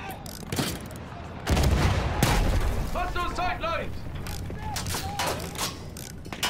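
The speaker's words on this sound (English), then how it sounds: "I'm going to shoot the tank with my rifle!" Battlefield 1 combat scene: irregular sharp gunshot cracks and bursts of fire aimed at a tank, with booming impacts and mechanical clatter, mixed with shouted voices in the background.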